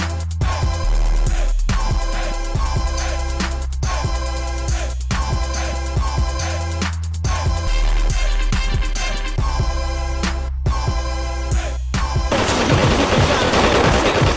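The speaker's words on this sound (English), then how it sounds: "a shootout happens between the owner and his family and Ed, Jen, and a police officer who entered the store" A cartoon shootout inside a store, with loud rapid gunfire in repeated volleys and sharp bursts packed together for the whole stretch, ending in a wash of noise.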